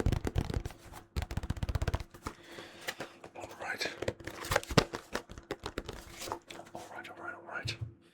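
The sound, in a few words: handling Yu-Gi-Oh! trading cards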